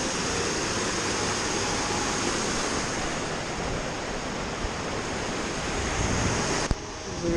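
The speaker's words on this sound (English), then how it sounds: "A little section of cascade." Water rushes steadily over small cascades and boulders in a creek, a dense, continuous broadband roar heard close by, with no voices and a brief dip near the end.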